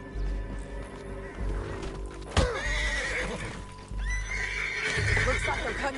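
A horse in Red Dead Redemption 2 whinnies loudly and close, then again after a pause, with hoofbeats shuffling underneath and voices talking over the scene.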